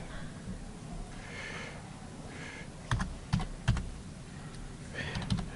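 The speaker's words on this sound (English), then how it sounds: "So type in your student ID number. And then your password." Student ID and password being typed on a computer keyboard: a short burst of quiet clicking keystrokes in the second half, preceded by faint rustling and low room noise, with no speech.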